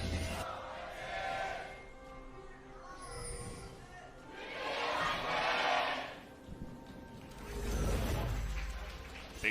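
A crowd cheers at an LCK 2019 Summer League of Legends esports match, Griffin versus Hanwha Life, in surging roars that rise and fall under caster talk.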